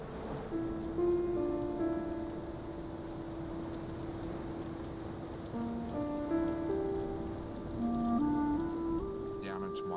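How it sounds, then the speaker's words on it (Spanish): Steady rain falls at sea after a helicopter crash into the ocean, a continuous even hiss under a sustained low musical tone, with no talking heard. "comenzó a llover."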